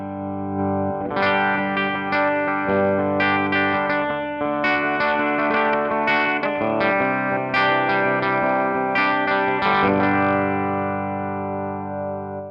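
Overdriven electric guitar chords and single notes ring out continuously, warm and crunchy, through the tweed fat side of a Rocknroll Amps Duoplex EL84 tube amp, with a delay echo and reverb tail trailing each phrase.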